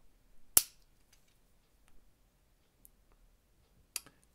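A finger-pricking lancing device on a BGStar blood glucose meter is cocked, giving one sharp, close click, then some faint handling ticks and a second, softer click a few seconds later.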